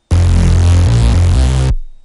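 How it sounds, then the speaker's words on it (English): In FL Studio, a Reese bass is run through Fruity Chorus on its filtro preset. It sounds as a loud, wide, distorted drum-and-bass synth note of under two seconds, with its pitch stepping up and back down, heard alone before a short decay. "do not put it to filtro because it sounds like this."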